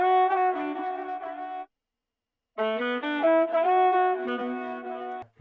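A warm, vintage-sounding pitched soul sample of sustained harmonic chords and melody, cutting out for a second before resuming.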